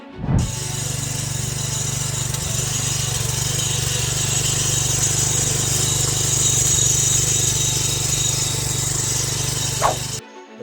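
A small cultivator engine drones steadily and loudly throughout while tilling a drumstick and coconut plantation, with a sharp clunk near the start and another near the end.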